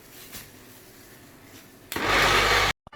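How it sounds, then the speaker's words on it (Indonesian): An electric blender whirs loudly for under a second while grinding tomatoes and chili for sambal, following quiet kitchen handling noises before cutting off abruptly. "Tapi kita blender dulu deh."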